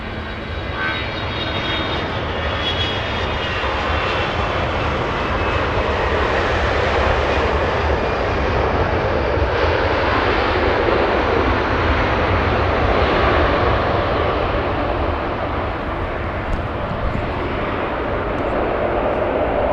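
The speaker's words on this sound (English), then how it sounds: "Flying in from London, a 777-300." An American Airlines Boeing 777-300 arriving from London at LAX, its jet engines a continuous broad roar, steady and fairly loud throughout with a slight swell near the middle.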